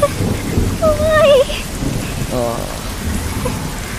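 Steady heavy rain hisses throughout with low rumbling thunder, and a brief whistling tone and a short voiced sound rise above the downpour.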